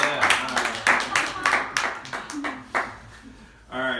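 Comedy club audience practicing on cue, with bursts of clapping, yells and woos in several rhythmic waves, fairly close and loud, ending in a short cheer.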